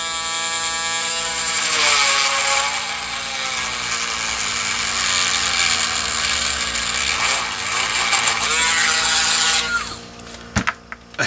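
Small high-pitched rotary tool drilling steadily into a plastic MechaGodzilla action figure, a loud continuous whine for about ten seconds that shifts pitch slightly under load, then stops with a few clicks.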